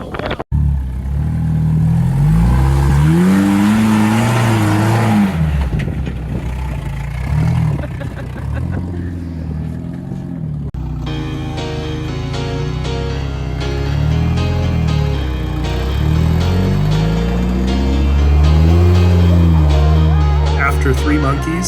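A 35-year-old four-cylinder Jeep engine driving off-road on sandy trails, a steady rumbling drone that rises and falls as it revs and labors, continuous and close under someone talking over it.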